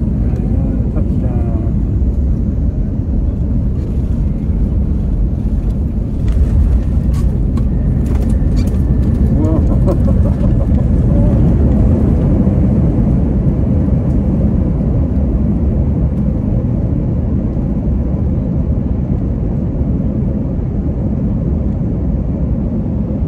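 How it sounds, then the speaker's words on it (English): An airplane on final approach into Austin Airport, Texas, with the landing gear lowering: a loud, constant cabin roar and rumble of engines and airflow that swells slightly midway, heard from inside the plane. "The wheels go down, it makes noise"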